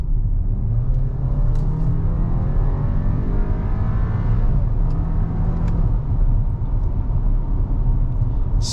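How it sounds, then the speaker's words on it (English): A 2022 Audi Q7 45 Premium with a turbocharged four-cylinder accelerates hard in dynamic mode, a steady low engine rumble heard from inside the cabin, rising as it holds gears. "kind of punch the throttle, see how quickly the transmission reacts, and we'll see how quickly we can get it up to speed"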